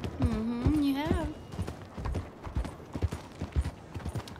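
Horse hooves clip-clop in a steady rhythm, close and clear, with a brief whinny near the start, in the video game Red Dead Redemption 2.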